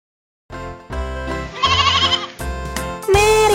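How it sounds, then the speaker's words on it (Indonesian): Bleating lamb voices sung as part of a children's nursery rhyme, a series of loud, musical, wavering bleats in several bursts over backing music. "Mary punya domba kecil"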